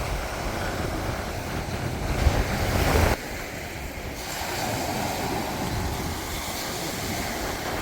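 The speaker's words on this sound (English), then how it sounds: "The waves are really nice today" Ocean surf rolls onto Cavendish Beach in Prince Edward Island, a continuous wash of breaking waves mixed with gusting wind buffeting the microphone, with a louder surge near the middle before settling back to steady roar.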